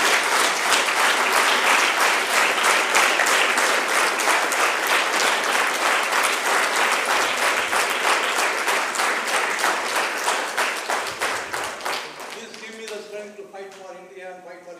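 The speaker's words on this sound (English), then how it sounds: "loud applause, ladies and gentlemen?" An audience gives a big, energetic round of applause that rings loud and dense for about twelve seconds, then thins into scattered claps and fades away.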